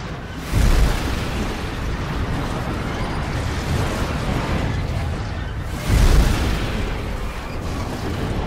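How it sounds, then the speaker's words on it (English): Runaway BNSF manifest freight train slamming into two parked Soo Line locomotives in a Saint Paul, Minnesota yard: two heavy booming impacts several seconds apart over a continuous loud roaring rumble, no voices. "The runaway BNSF manifest train collided with the two Soo Line locomotives"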